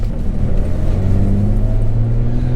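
Toyota Tacoma X-Runner pickup with Sumo Springs on a road test over street roads, a loud steady engine hum and road rumble heard from inside the cab, with the pitch rising slightly.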